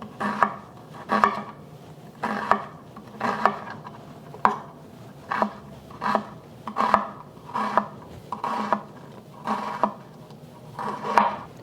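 A knife slices thinly through an onion on a cutting board, about fourteen crisp, even strokes in a steady rhythm, close and clear with no talk.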